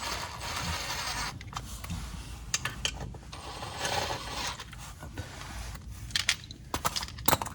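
Ratchet wrench clicking as bolts are loosened on an Audi TFSI engine during balance shaft idler gear work, bursts of quick close ratcheting with pauses and metallic clatter, no talking.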